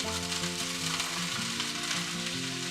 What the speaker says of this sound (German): Ein Schuss Öl in die heiße Pfanne. Die Äpfel kurz braten.